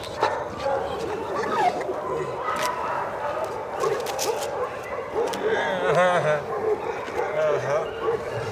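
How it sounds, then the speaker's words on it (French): Small dogs, including a deaf dog, yip and bark in short bursts alongside some whimpering, with people talking over the noisy, busy room throughout. "Voici l'un des 2 chiens sourds."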